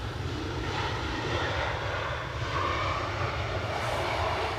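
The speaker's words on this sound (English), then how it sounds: "a very graceful and well received landing from our Pegasus Airbus A320" A Pegasus Airbus A320 comes in to land at Edinburgh Airport in strong, gusty wind, giving a steady, fairly distant roar of jet engines mixed with wind rumble and no talk.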